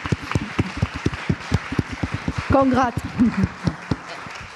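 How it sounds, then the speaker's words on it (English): An audience claps for the organizer at an academic economics event on inclusive departments, the scattered claps mixed in with a voice speaking over them throughout. "So I suggest a round of applause for the organizer,"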